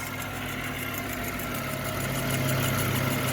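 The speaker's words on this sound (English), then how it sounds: "will pull the projector head and start this rewind motor. It goes very fast." The fast rewind motor of a Cinebox film jukebox runs as a steady mechanical whir and hum. It is fairly quiet and heard alone, rising slightly in strength toward the end.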